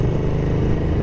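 A Ducati 900SS Bevel motorcycle engine runs under load through the gears, giving a loud, steady low-pitched drone for about a second.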